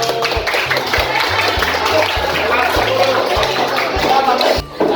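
A class of students applauds a group after an in-class competition, a loud, sustained round of clapping over a steady rhythmic music beat, with voices mixed in.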